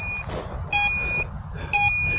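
Loud, shrill electronic beeps from a crashed drone's locator sound in short repeated bursts, three pulses with gaps between, against quiet background noise.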